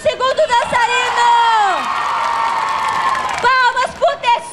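Children's Day event crowd cheering and shrieking for a dancer, a loud sustained high-pitched yell from many young voices with clapping beneath, bracketed by bits of voices before and after.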